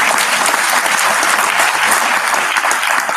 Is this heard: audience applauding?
yes